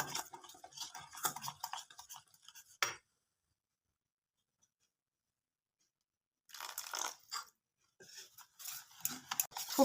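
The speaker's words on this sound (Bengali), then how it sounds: "খুব ভালো করে জলটা মিশিয়ে নিয়েছি" Semolina batter is stirred with warm water in a bowl, giving rapid scraping, ticking strokes in two bursts separated by several seconds of near silence.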